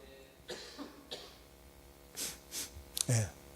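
A few short coughs and throat-clearing bursts, close by, spaced irregularly with brief pauses between them.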